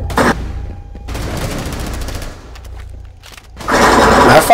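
Rapid SMG gunfire from the Rainbow Six Siege video game, loud close bursts of shots with a pause in the middle, rising again to a dense volley at the end.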